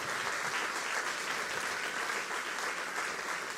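A church congregation claps for the Lord in steady, dense applause that fills the hall evenly, sustained and moderately loud with no voices on top.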